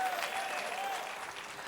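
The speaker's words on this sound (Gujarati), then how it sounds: "યોગી ચોકના શ્રોતાઓને એકવાર તાળીઓથી વધાવી લઈ છે" A crowd applauds steadily, a dense wash of clapping that holds at an even level before easing slightly toward the end.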